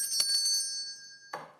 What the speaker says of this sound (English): we ring the bells to signify that the Constitution was written.